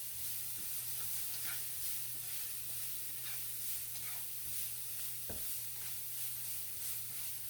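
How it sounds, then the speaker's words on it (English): Garlic and onion saute in a pan with a soft, continuous sizzle and occasional light stirring scrapes, fairly quiet over a steady hum, with one sharper knock midway and no voices. "When you saute garlic and when you saute onion, you have to be pretty quick because they can burn up pretty easy"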